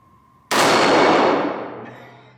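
A Remington 1911 R1 Enhanced .45 ACP pistol fires once and the round strikes a steel flipper target, a single loud sharp crack with a metallic clang that rings and decays over about two seconds, no talking.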